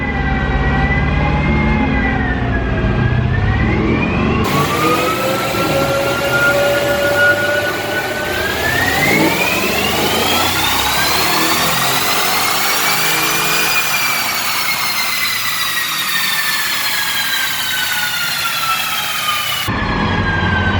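A BMW M550i runs a dyno pull, its engine pitch rising and falling as it revs up, holds high and sweeps back down, loud and close for about twenty seconds without speech.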